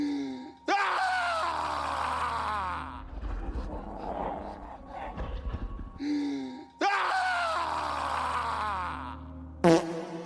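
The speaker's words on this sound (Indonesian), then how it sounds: "si Jotun hanya bisa menggaum dari jauh" A Jotun forest creature from a film gives two long, loud groaning roars separated by a rough, rumbling stretch, with a sharp short cry at the end.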